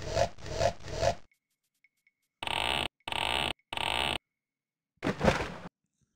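In the adventure game Flight of the Amazon Queen, a knife saws through a jungle vine with repeated rasping strokes: three quick ones, a pause, then three longer even strokes and a final one. It sounds close and dry against silence.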